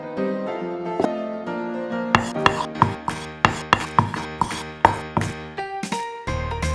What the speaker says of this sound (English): Then put some rosemary leaves and garlic in the mortar. Pounding, pounding, pounding.